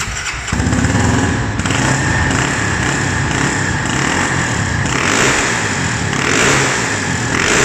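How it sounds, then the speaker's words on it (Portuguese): Engine of a Honda CB 300 with a performance camshaft and 1 mm oversize piston, revved through its throttle body while its idle keeps dropping too low. The engine roars loud and close, with repeated swelling revs over a steady drone. "Mas vou dar uma aceleradinha no TBI ali agora dela, né?"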